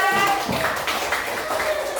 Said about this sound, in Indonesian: Tepuk tangan dong untuk kalian.